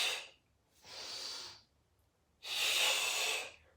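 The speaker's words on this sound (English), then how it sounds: "Inhale, stretch. Exhale." Deep breaths drawn in and pushed out during a Pilates ab workout, three loud airy breath sounds separated by short quiet gaps, the last the longest and strongest, close to the microphone without speech.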